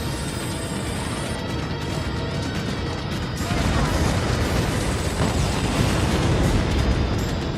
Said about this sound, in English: getting pounded by all the various gun turrets